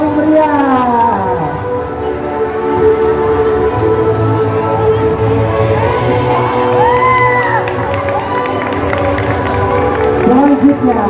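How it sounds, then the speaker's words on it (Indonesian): Crowd cheering at a campus outreach event for schools, loud sustained shouting and whooping from many young voices with tonal, siren-like rising yells, close and continuous throughout. "Boleh berikan tepuk tangan yang paling meriah"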